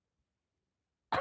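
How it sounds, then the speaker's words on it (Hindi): A single short cough or throat-clear bursts out at the very end after about a second of silence, close and fairly loud. "पता नहीं क्यों खांसी आ रही बार बार।"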